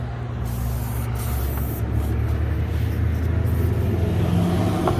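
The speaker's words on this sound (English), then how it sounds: "just get your WD-40, spray some on the pulley" WD-40 sprayed onto the crank pulley of a 2003 Lexus GS300 gives a steady hissing spray, with a low engine-like rumble running underneath throughout.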